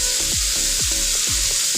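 A mustard and poppy seed paste hitting a hot pan: a loud, steady hiss of sizzling with a rhythmic low thumping pulse underneath, close and continuous, with no voices.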